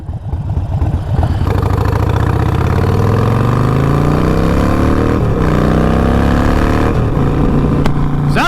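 A 2020 Harley-Davidson Roadster fitted with a Vance and Hines Fuel Pack auto-tune runs loud and steady, its engine note sweeping upward as it revs and holds at a high pitch, with a brief dip partway through.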